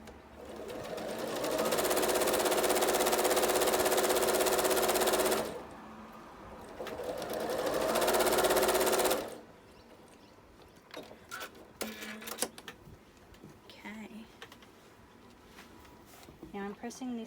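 A sewing machine stitching a quilt block with dark orange and white fabric runs in two loud sustained bursts with a short pause between, followed by quieter handling noises and clicks.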